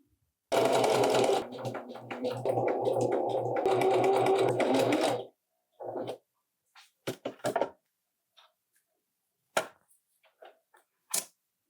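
A sewing machine runs a steady seam on a pair of Lane Pants for several seconds, then stops, followed by scattered fabric handling sounds and small knocks in a quiet room.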